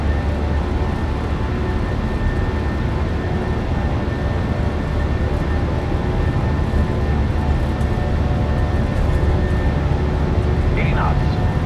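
Jet engines of a PMDG 737-800 at takeoff power in a flight simulator game, a loud, steady broadband roar with a low rumble and a faint tonal whine holding throughout, a voice speaking faintly over it.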